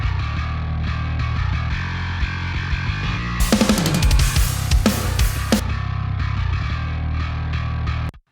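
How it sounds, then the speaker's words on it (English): Distorted MIDI bass from a Nolly Get Good Drums bass plugin run through a pawn shop compressor, playing a steady loud sustained line with a burst of sharp, bright plucked attacks in the middle, alone without talk. "it's a Nolly's Get Good Drums Nolly bass, and this pawn shop compressor"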